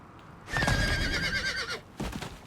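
A video game horse mount lets out a loud, shrill whinny that rises and wavers for just over a second, followed by a shorter snort-like burst after a brief pause.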